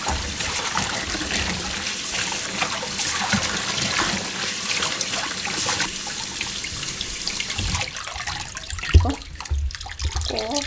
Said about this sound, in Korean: 흐르는 물에 씻어 오겠습니다